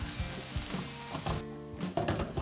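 Onions seasoned with adobo fry in a pan, giving a soft, continuous sizzle with a few light stirring scrapes and knocks, fairly quiet and without any talking.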